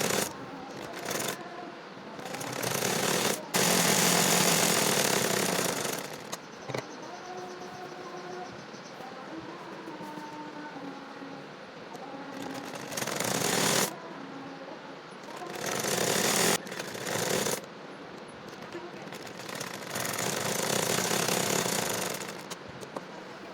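A sewing machine stitches the side seams of a child's top in several bursts of rapid mechanical clatter, with quiet pauses between runs and no voices.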